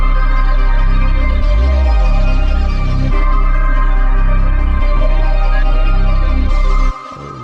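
Trap beat loop built in FL Studio with sliding C bass notes, heavy booming bass glides under a dense, loud, steady beat that keeps going for several seconds before dropping off at the end.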